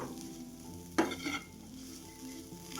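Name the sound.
sautéing masala sweet corn in a pan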